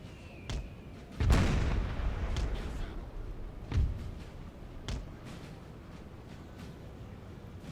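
Musket volleys and artillery booms in the Napoleonic battle game Napoleon: Total War, with an Austrian army: a heavy blast followed by scattered sharp shots and distant thuds over a steady battlefield rumble.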